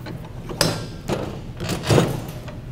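A garden hoe being clamped into a bench vise: several hollow metallic and wooden knocks and clunks spaced over a few seconds, fairly close, with one heavier thud near the end.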